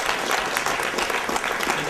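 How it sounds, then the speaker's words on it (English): An audience at a 2011 Ogden City Council candidate debate gives the candidates a round of applause: dense, steady clapping from a room full of people, with voices mixed in. "let's give a round of applause to the candidates, please"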